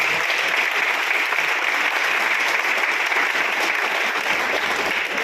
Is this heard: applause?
yes